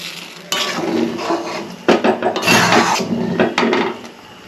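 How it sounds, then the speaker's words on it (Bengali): Milk being stirred in a metal pot for kesar dudh puli pitha, a spoon scraping and clinking against the bottom in repeated bursts, close and fairly loud with no talking. "মাঝে মাঝে একটু নিচের দিকটায় লেগে যেতে পারে দুধটা তাই একটু নেড়ে দিচ্ছি"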